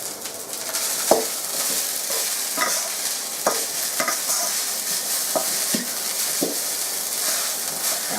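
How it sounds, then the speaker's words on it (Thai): Rice mixed with shrimp paste being stir-fried in a hot pan, with a steady sizzle throughout and repeated sharp scrapes and clacks of a spatula against the pan at irregular intervals, close and fairly loud, with no talking. "แล้วก็ผัดเลยครับ ผัด ผัด"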